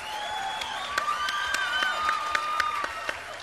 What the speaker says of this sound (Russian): давайте поприветствуем бурными аплодисментами Тенгу Тарба